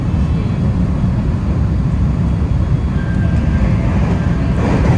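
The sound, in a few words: IR Ishikawa Railway rapid train passing through a station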